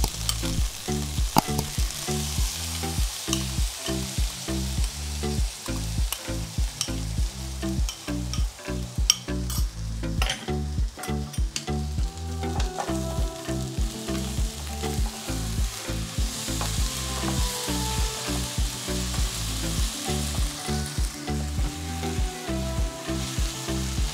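Kung pao chicken sizzles and spits in a hot wok as sauce goes in, with continuous loud frying and a steady rhythm of spatula scrapes and stirring knocks throughout, no voices.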